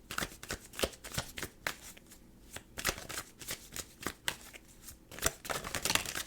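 Tarot cards are shuffled and drawn, with a rapid series of crisp riffling snaps and flicks close up and no talking.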